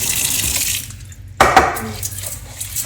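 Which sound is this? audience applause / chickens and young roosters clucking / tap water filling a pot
tap water filling a pot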